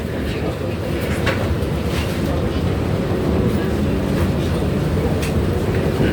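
A city tram ride heard from inside the car: a steady, loud rumbling roll with wind noise and faint clunks, with no talking.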